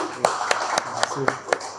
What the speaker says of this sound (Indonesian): Boleh tepuk tangan untuk Pak Rudi.